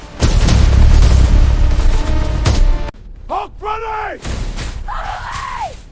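Animated battle scene with loud booming blasts and gunfire-like bursts in a dense opening, followed by shouted voices and whooping cries.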